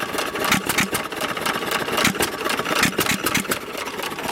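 A 1920s Novo 3 hp Model S upright hit-and-miss engine runs close by, a steady chugging, throttled to about half open, with dense rapid firing and no voices over it.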